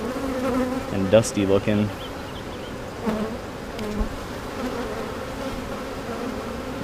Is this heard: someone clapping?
no